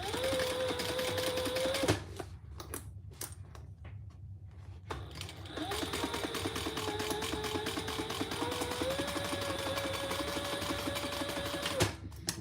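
A sewing machine stitches the side seams of a garment in two long runs of rapid, even whirring, close and steady, separated by a brief pause with light handling noise.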